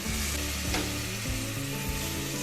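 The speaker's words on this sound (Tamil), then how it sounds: "அதை கொஞ்சம் மிக்ஸ் பண்ணிவிட்டு" Yogurt is stirred into sautéed vegetables for a veg biryani, a soft steady sizzle and frying hiss running under louder background music.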